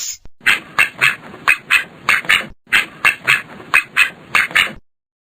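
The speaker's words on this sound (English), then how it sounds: "Ducks." A duck quacks loudly and close up, a run of about fourteen sharp quacks in quick, fairly regular pairs and bursts with nothing else heard.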